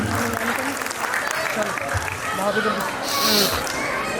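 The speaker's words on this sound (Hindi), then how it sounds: "एक बार तालियां सभी के लिए बजा सकते हैं आप सभी" Audience applause fills a school annual day function, a dense steady patter of many hands clapping at once, fairly close and loud, with a voice briefly audible over the clapping.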